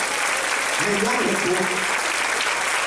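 A church congregation standing and applauding during a worship service, steady dense clapping with voices and shouts mixed in throughout.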